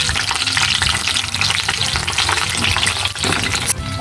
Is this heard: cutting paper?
no